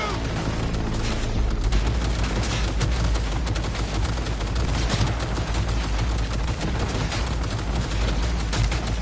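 Dense, continuous gunfire and booming explosions from Cyberpunk 2077 fill the scene at high volume, with shouting voices partly buried in the barrage.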